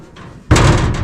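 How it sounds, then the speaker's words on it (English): The door of a 1967 Chevy C10 pickup truck with a custom dash slams shut, a single loud, close, solid thud after a quiet moment, followed by a brief ringing rattle as the cab settles. "see, close the door"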